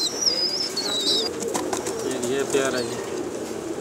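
Teddy pigeons in a pigeon shop coo softly in a steady low murmur, with bird chirps above, while someone talks over them nearby.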